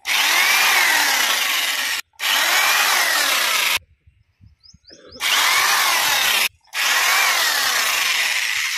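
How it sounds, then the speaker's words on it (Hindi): A power drill boring holes one by one into a water pipeline for a broiler farm cooling system, four loud close bursts of whining drilling separated by brief pauses and one longer quiet gap. "ये पाइपलाइन पे आपको इस तरह से एक एक करके छेद करना है"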